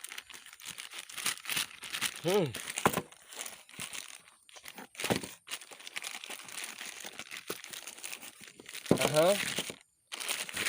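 Plastic packaging crinkling and tearing while a 25 HP tractor fuel injection pump is unboxed, with intermittent crunches and rustles at close range and a voice talking in places.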